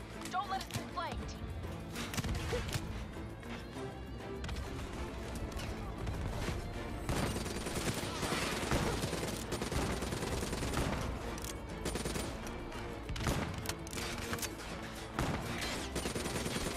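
Gunfire rattles in a Call of Duty Black Ops 3 firefight, repeated bursts and scattered shots over a dense battle din, fairly quiet overall, with people talking over it.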